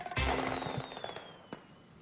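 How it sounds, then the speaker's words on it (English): Fireworks going off outdoors: a sharp loud burst near the start with a whistling streak that falls slowly in pitch, then a second smaller pop about a second later. "Why aren't you doing the fireworks, man?"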